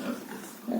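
A young F1 gilt gives a short, low grunt close by, a single brief snort with nothing else around it.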